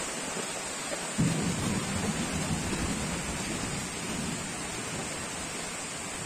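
Heavy rain pours steadily on a surface as thunder rumbles in, with a sharp onset about a second in and a sustained roll beneath the dense downpour; no one speaks.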